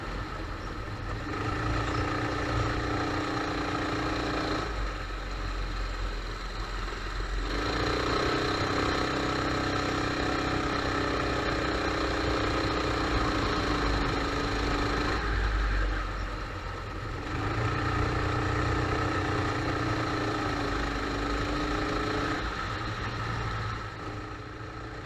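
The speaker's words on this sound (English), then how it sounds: "this kart didn't sound too good anymore" A go-kart engine in poor condition after repeated crashes runs steadily for the whole stretch, a continuous mid-pitched drone whose pitch rises and falls in a few surges, close and fairly loud with no talking.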